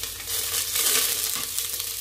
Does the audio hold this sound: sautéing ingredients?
yes